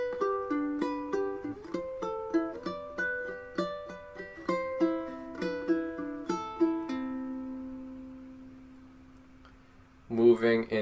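A ukulele plays bar 3 of Ode to Joy fingerstyle at a slightly quicker pace, a run of clean picked notes ending on a ringing sustained note, followed by a brief spoken voice.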